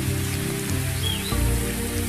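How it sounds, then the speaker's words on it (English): Rain falling on the African savanna at the end of a hot dry season, a broad steady hiss of downpour that stays even throughout with a low background hum, no voices present. "The rain very quickly brings a close to the seemingly incessant days of heat"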